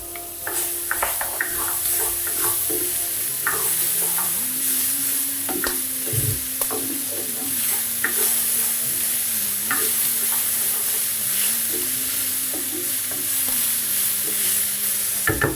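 Ginger and garlic sizzle and fry in a pan for a beef tagine, with a steady close hiss and repeated scraping stirs and utensil clicks throughout, and no talking.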